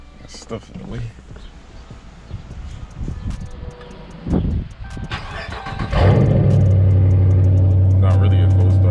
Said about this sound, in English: I guess I'll let y'all hear some type of cold start.